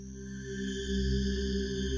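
A sustained synthesizer pad holds a smooth, layered chord that swells gently and hangs in a wash of reverb, with no other sounds.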